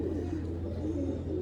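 Pigeons coo steadily at a pigeon market in Lucknow, a continuous low murmur of calls over a constant background hum with no talking.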